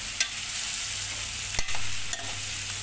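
Potatoes for chilli potato fry in a pan, an even crackling sizzle with a couple of sharp clinks of a spoon against the pan, no voices.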